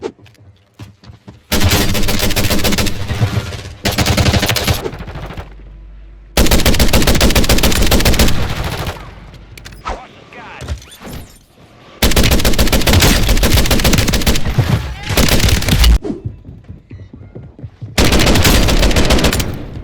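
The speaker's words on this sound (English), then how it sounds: "show you guys what this gun looks like when it performs in Warzone" Long bursts of rapid automatic fire from the JAK Jawbreaker in the Warzone video game, loud and dense, alternating with short quiet pauses and occasional lighter shots between volleys.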